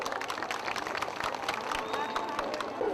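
A crowd claps steadily through the whole stretch at the Deoria Tal development festival in Ukhimath. Many sharp, overlapping hand claps ring out at a fairly constant level, with voices murmuring underneath.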